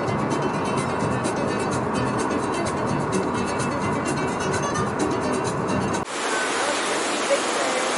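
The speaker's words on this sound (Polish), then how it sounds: "jak rzeka Sacramento wypływa prosto ze skał" Headwaters of the Sacramento River gushing straight out of rocks at the spring source, a steady loud rushing of water that drops away abruptly near the end.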